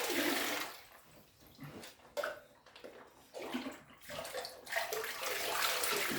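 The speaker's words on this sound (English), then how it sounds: "because I have to keep pouring it on myself" Cold water poured from a jug over the shoulders while sitting in a chest freezer ice plunge, loud splashing pours that come in bursts with short gaps between them, close to the listener.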